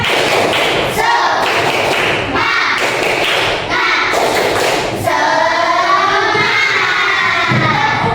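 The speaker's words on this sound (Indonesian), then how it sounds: "Kita tepuk semangat dulu. Tepuk semangat." A classroom of schoolchildren claps together in a quick patterned rhythm, bursts of group clapping alternating with the children's voices chanting along in Indonesian, loud and close.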